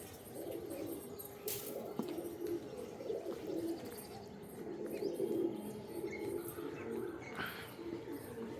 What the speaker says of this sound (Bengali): দেখো বন্ধুরা, এই 5টা পায়রা উড়ছে